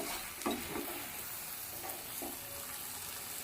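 Mutton curry fries in a pan while ingredients are stirred in, giving a steady, soft sizzle with a few faint scrapes of the spoon and no voices.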